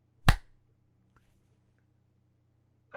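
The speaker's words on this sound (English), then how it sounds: "It's the most terrible clap of my life." One sharp hand clap close by in a quiet room, followed by near silence and a couple of faint small knocks.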